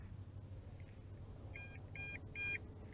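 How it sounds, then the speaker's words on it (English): An MJX Bugs 5W RC drone's controller gives three short, faint electronic beeps in an even rhythm as a low battery warning, over a low background hum with no speech. "Okay, 3 beeps repeatedly."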